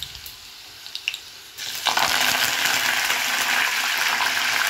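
Cumin and mustard seeds hit hot oil with garlic, setting off a sudden bright sizzle after a few faint clicks, then a steady loud frying hiss that continues to the end.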